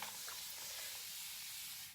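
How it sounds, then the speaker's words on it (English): A handheld water sprayer gives a continuous soft hiss of mist for about two seconds, close and fairly quiet, with no talking. "give it a spritz"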